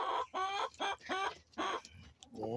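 A rooster clucks in a run of short, harmonic bursts, four or five close together with brief gaps, fairly near and clear.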